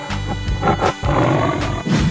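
A toy tiger lets out roaring growls, several short loud bursts in quick succession, close and electronic-sounding.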